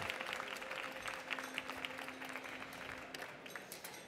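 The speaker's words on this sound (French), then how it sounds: "Allez, on l'applaudit, on l'encourage, messieurs, dames." An audience at a French barista championship applauds a competitor, many hands clapping in a lively, uneven patter, with a faint steady hum beneath and a few louder claps near the end.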